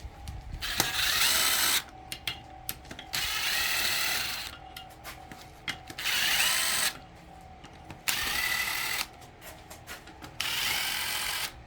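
An impact wrench removes cylinder head bolts from a 6.0 Power Stroke diesel engine during a teardown, firing five loud, close, rattling bursts of one to two seconds each, separated by short quieter pauses.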